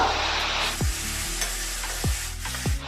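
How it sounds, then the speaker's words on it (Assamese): Fish pieces frying together with shredded cabbage in a pan give a steady close sizzle, broken by several scraping stirs of a spatula at regular intervals. "মাছখিনি ভালকৈ এনেকৈ ভাজি দিব।"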